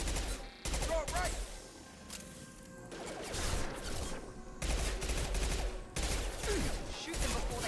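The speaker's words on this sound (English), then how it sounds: "Shoot them before they take out your shields." Rapid gunfire bursts in the Mass Effect video game, with loud volleys of automatic shots and impacts coming in clusters, while a voice talks over the action.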